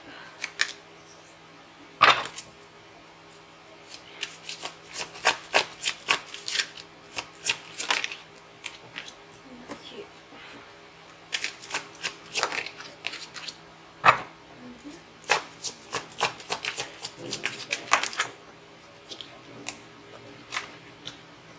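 Tarot cards are shuffled by hand during a love reading, a close, ongoing flutter of riffling and snapping card bursts repeated over twenty seconds, with soft pauses between runs.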